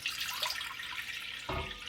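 Water pouring into a cooking pot, a faint trickling splash running steadily, then a fuller gush briefly at the end.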